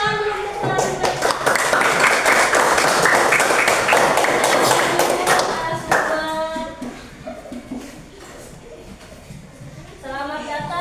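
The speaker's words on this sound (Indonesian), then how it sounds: "Beri tepuk tangan dulu untuk narasumber kita." A class of fourth-grade students at SDN 3 Menteng claps for a visiting teacher as a guest speaker. Loud, dense clapping runs for about six seconds, then fades into scattered claps and talk before a brief final burst.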